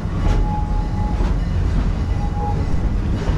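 A theme park train ride rumbles steadily, with a continuous low rolling roar and faint rail clatter, loud and close, no talk.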